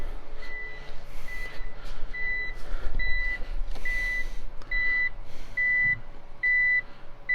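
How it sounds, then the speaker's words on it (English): Mitsubishi Delica L400 van reversing alarm beeping in a steady repeating pattern, close and fairly loud, over a low idling engine rumble with workshop background noise. "Are you getting annoyed by the beeping?"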